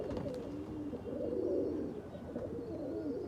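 Red Chinese pigeons cooing in a loft, a steady low murmur of overlapping coos from several birds close by, continuous throughout with no talk.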